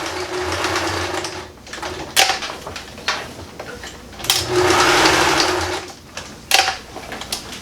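A sewing machine stitches a bag made from recycled denim jeans, running in loud close bursts of rapid whirring with brief pauses and clunks between passes, no talking.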